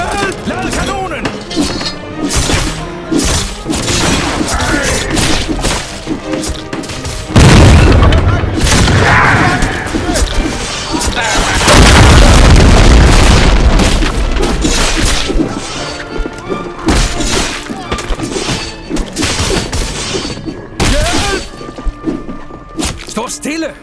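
Cannon firing in a Roblox game set in Copenhagen, heavy booms and crashing impacts layered over a dense, loud game soundscape with frequent shouting voices throughout.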